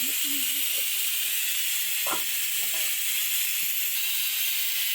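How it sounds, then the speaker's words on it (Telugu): Pieces of bottle gourd fry in hot oil, a constant bright hiss and sizzle with a few faint low knocks and a brief murmur of voice. "ఇదండి ఇలా వేగుతుందన్నమాట"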